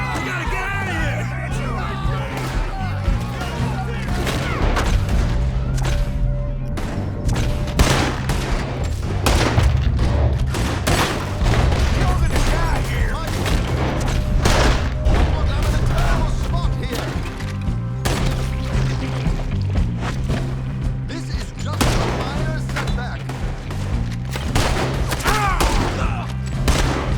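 A shootout in Red Dead Redemption 2, with dense, continuous gunfire, repeated loud cracks and booms, and splintering impacts over a heavy rumble, while voices shout at times.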